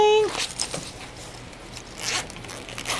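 A zipper on a pencil case pouch is pulled open in quick rasping bursts, loud and close, with a short tone at the start and faint rustling between pulls.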